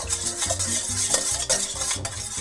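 Salt being stirred into cold water in a bowl, a steady swishing and light clinking of a utensil over a low background tone, close and continuous with no talking.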